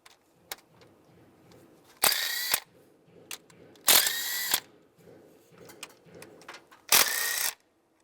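A power tool with a 13mm socket spins bolts out on a 2007-2013 Chevrolet Silverado 1500, three loud bursts of whirring a few seconds apart with quieter clicks and handling noise between them.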